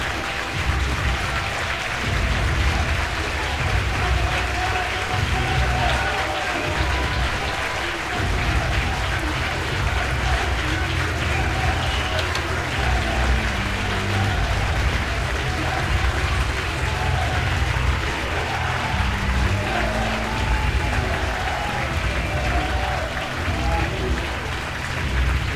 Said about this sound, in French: Veuillez accueillir notre lauréat du prix Röpke 2025 avec de grands, forts et chaleureux applaudissements.